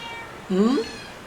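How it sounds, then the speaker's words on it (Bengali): A cat gives a single short meow, close and clear against a quiet background. "আমাদের বিড়ালগুলো কিন্তু বাড়িতে চলে আসতেছে"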